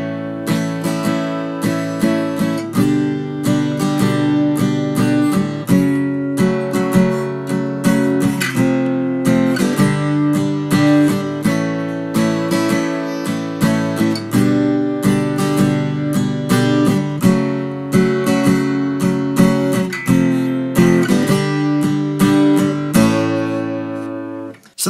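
An acoustic guitar plays the strummed solo section of a song, steady rhythmic chords ringing out clearly and alone for the whole stretch, with no voice.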